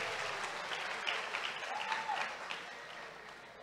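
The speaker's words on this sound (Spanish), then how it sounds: "Un fuerte aplauso, por favor, para el doctor" Audience applause for a doctor at a conference, a sustained crowd clapping that holds evenly and fades slightly toward the end, moderately distant and alone without speech.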